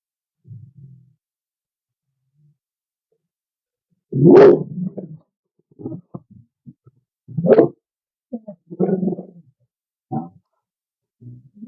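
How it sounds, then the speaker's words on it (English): A dog barks outside in a few separate bursts spaced irregularly over several seconds, moderately loud with quiet gaps between, and no talking. "Sorry, there's another dog barking outside."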